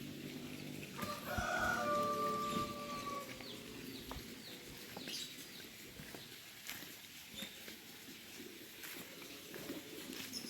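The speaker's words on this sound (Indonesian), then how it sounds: "Paling enak di pedesaan teh suara ayam" Chickens in a rural village sound off, a rooster's drawn-out crow rising near the start followed by scattered clucks and soft bird calls, moderately distant over quiet outdoor ambience.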